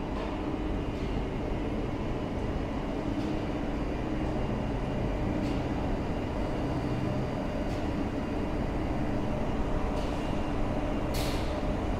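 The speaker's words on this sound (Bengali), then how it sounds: "এটাই মাত্র 1 মিনিট লেট ট্রেন ছাড়লো" A Howrah Chakradharpur Express train pulls out of Howrah Junction at night, filling the space with a steady, loud rolling rumble and rattle of carriages, with faint metallic clicks and a brief hiss near the end.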